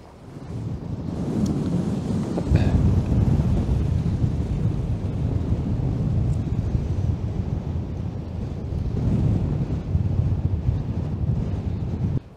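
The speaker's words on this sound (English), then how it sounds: "It's just a matter of waiting to get that nice calm wind" Strong wind blows outdoors in the Utah badlands, a loud, continuous gusty roar buffeting the microphone for about twelve seconds, swelling and easing slightly throughout.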